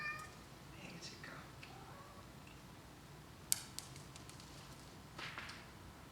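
A cat meows a few times, faint and intermittent, with quiet sharp clicks and ticks in a room.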